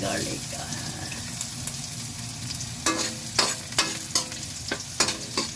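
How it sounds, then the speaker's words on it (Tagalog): Garlic sautéing in a pan for ginataang kalabasa with string beans and eggplant, a steady sizzle running throughout, broken after the midpoint by several sharp clinks and scrapes of a utensil stirring. "Sunod na natin ang ating garlic."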